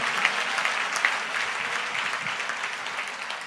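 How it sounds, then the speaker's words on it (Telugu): A church congregation claps loudly during a Christian sermon, a dense, even burst of rapid hand claps sustained throughout at close range. "గట్టిగా కొడితే చప్పట్లు గట్టి కొట్టు"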